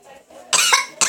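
A person coughs after sucking on a lemon, with one harsh burst followed by a second short cough, close and loud.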